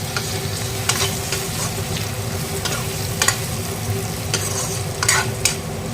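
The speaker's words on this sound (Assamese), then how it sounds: "এতিয়া আকৌ ফ্ৰাইড কৰি পেলাই ইয়াতে দি দিম মই জলকীয়া 3টা।" Three chilies fry in a pan with a loud, continuous crackling sizzle, broken by occasional sharp clicks of a utensil stirring.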